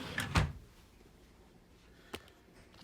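Deep drawers in a Carnival Sunshine cruise ship cabin, a sharp wooden thump as one slides shut near the start, then a fainter knock a couple of seconds later in a quiet room.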